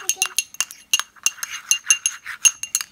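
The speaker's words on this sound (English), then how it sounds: "So now what I'm going to do is just mix it all up again." Slime gets stirred together with sprinkled salt, giving a quick run of close, bright clicks and wet tapping pulses in an uneven rhythm, with no talking.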